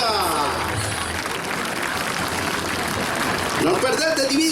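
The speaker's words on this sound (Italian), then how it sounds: "Un forte applauso" A crowd applauds the Patrulla Aguila aerobatic team at the 2017 Jesolo European Air Show, sustained clapping rolling through the clip while an announcer talks over it and a jet engine rises near the end.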